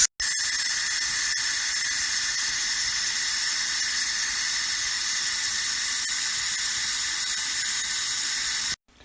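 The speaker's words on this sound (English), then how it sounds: "take your fanciest colander, rinse the beans under cold water" Cold tap water gushes over beans in a colander in a kitchen sink, a steady and fairly loud rushing spray that starts and stops abruptly, with no voices.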